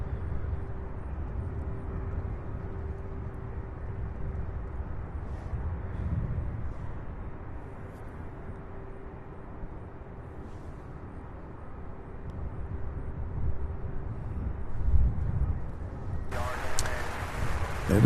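A UPS MD-11 freighter taxis at Louisville airport as a steady, distant low engine rumble that holds evenly throughout, with faint background noise.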